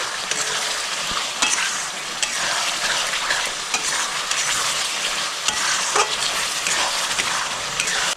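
Chilli chicken sizzles steadily in a hot pan as it is stirred with ground black pepper, a loud continuous frying hiss broken by scraping stir strokes, with no voices.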